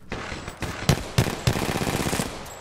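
Rapid automatic gunfire in the online shooter Apex Legends: a short burst of close, loud shots firing in quick succession for under three seconds, with no speech.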